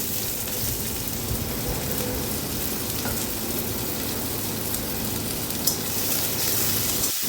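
Onions fry in hot oil in a wok, giving a steady close sizzle and crackle that lasts throughout, with a faint scrape of stirring near the end and no voices.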